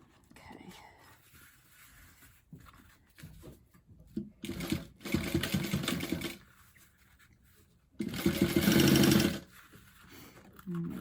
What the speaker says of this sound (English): to the machine and top stitch around that zipper